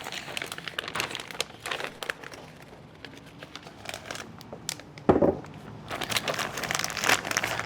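A plastic vacuum seal bag crinkles and rustles in irregular bursts as jerky marinade is dumped in, with a louder crackling handling sound near the middle, close and moderately quiet.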